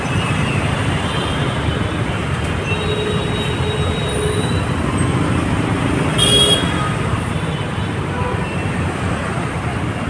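Steady road traffic and wind roar heard from a KTM Duke motorcycle riding out of Hyderabad toward Warangal in humid weather, a loud continuous rumble with a brief rise near the middle, no talk.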